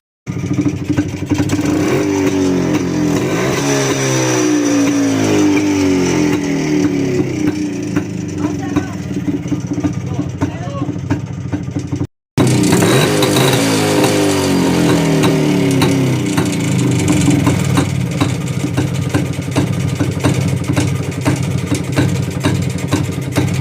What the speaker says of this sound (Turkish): kontağımız çalıştı, motorumuz çalıştı.